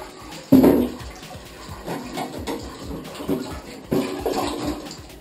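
A Camco 41545 portable travel cassette toilet is flushed, giving short bursts of gushing, splashing water, with a strong surge near the start and another later, close and alone.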